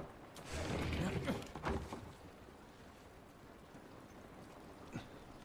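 Rain in The Last of Us, a steady hiss of falling rain with a heavier patter of drops early on, continuing evenly at moderate loudness.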